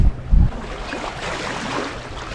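Sailboat under sail at sea, not motoring, on a calm, slow day: steady wind and water wash throughout, with a brief louder gust or splash near the start, no voices.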